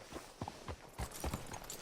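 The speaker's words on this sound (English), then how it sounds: "Hitch your horse up here." A horse in Red Dead Redemption 2 walks at a slow pace, its hooves giving soft, evenly spaced clip-clop steps, faint and close, with no talking.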